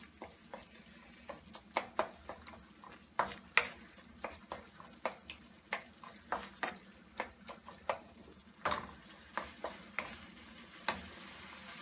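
Dry spices for a shrimp curry are stirred in a hot pan over a faint sizzle, with a utensil scraping and clicking against the pan in quick, irregular strokes throughout, close and alone.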